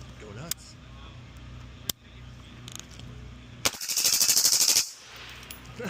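A rifle fires a rapid string of shots at an outdoor shooting session, about a second of loud close bursts after a couple of single cracks, with people talking around the firing.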